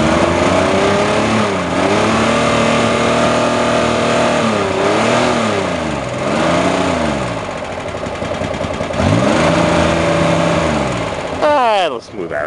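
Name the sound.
Monza car engine sputtering, running rich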